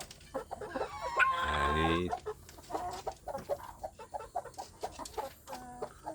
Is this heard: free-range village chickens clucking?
yes